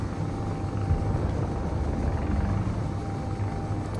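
A continuous low rumbling engine drone from a ship flying in the Space Engineers video game, a battery-powered exploration ship, steady and fairly loud throughout with no pauses or talk.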